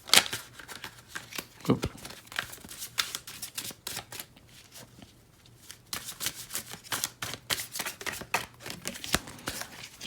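Tarot cards are shuffled in quick riffling bursts with a brief pause midway, close and crisp; a single short exclamation interrupts.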